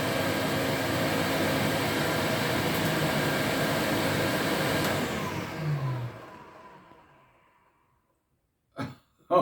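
A brand-new Electrolux Z504 vacuum cleaner runs with a steady loud motor roar right after its first switch-on, then winds down over a couple of seconds into silence, followed by two brief bumps.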